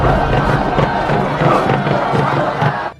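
Crowd at a Maya sacrificial ritual atop a stone pyramid temple, from the 2006 film Apocalypto, roaring and cheering in a dense, continuous wall of voices with rhythmic swells, then cutting off abruptly at the end.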